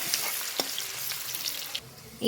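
Chopped onions sizzle and crackle in hot oil with salt added, steady frying hiss punctuated by a few sharp stirring scrapes of a spoon in the pan, close and continuous before briefly quieting near the end.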